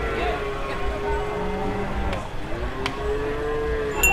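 Cattle low at a cattle market in Rogojampi, Banyuwangi, with a few moos rising over a busy crowd as people talk nearby.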